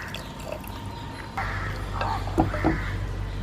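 Water poured into a simmering Thrissur-style beef curry in a pot, a sudden rush of liquid followed by bubbling and a couple of gurgling splashes, close and fairly loud, with no talking.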